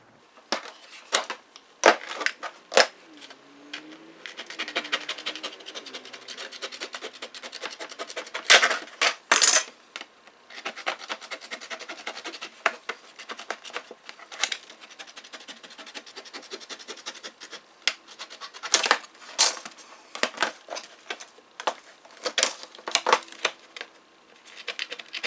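Metal snips cut sheet metal along a marked line for a mounted tee, giving sharp, irregular clacks and snips in bursts with quiet gaps, close and fairly loud, with no talk.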